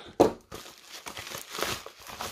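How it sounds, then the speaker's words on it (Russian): A bubble-wrap shipping bag from an AliExpress parcel is cut open and crinkled up close: a sharp snip, then rustling, crackling plastic in uneven bursts. "Пупырчатый пакетик."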